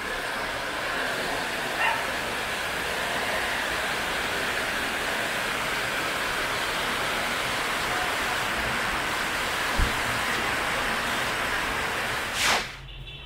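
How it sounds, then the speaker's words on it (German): Steady rushing water of a river flowing across a jungle road, a broad continuous wash filling the whole stretch, with a couple of faint knocks and a brief burst near the end. "Echt ein Fluss auf der Straße."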